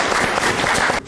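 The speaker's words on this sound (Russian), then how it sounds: "Аплодисменты, да, ваши?" An audience at a student talk show on corruption breaks into dense, loud applause that fills the room and then cuts off abruptly at the end.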